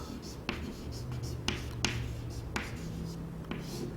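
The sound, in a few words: writing on a board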